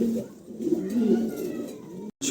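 A pair of molting pigeons at a market, cooing in low, rolling phrases that run almost without a break, close and fairly quiet, ending in a brief silence.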